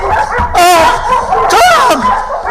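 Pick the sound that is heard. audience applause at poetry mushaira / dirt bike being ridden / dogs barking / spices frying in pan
dogs barking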